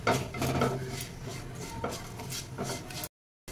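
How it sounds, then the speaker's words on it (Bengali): Mustard seeds and dried curry leaves stirred in hot oil for a tempering over coconut chutney, with steady scraping and clinking of a utensil against the pan and a soft sizzle, close and fairly loud, ending abruptly. "আর দিয়ে দেবো অল্প সর্ষে। আর দিয়ে দেবো কারি পাতা। আমি শুকনো কারি পাতা দিয়েছি এখানে। দিয়ে এটা নেড়ে চেড়ে একটু ভেজে নেবো।"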